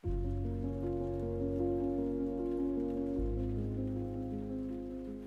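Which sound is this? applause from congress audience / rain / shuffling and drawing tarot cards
rain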